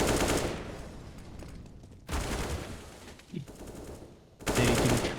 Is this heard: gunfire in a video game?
yes